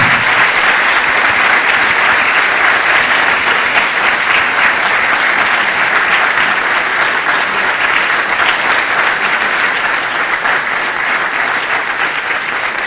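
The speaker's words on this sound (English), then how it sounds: "I would like to give you an applause." Loud, dense applause from an audience thanking a presenter after a lecture on sediment transport and river morphology, sustained evenly for the whole stretch with no voices over it.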